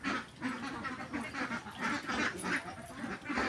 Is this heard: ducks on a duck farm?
yes